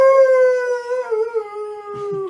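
A dog lets out a long, wavering wolf-like howl, sustained and close, holding its tone for about two seconds before breaking into a few softer whimpering notes at the end.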